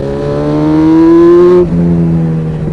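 A motorcycle engine drones loudly while riding, its pitch climbing steadily before dropping at a gear change and settling into a lower hum.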